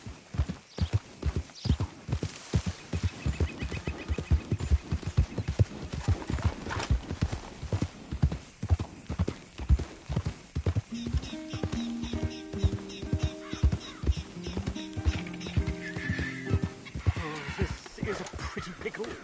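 A horse in the video game Red Dead Redemption 2 clip-clops along in a steady, rhythmic run of hoofbeats, with a whinny and other game sounds later on.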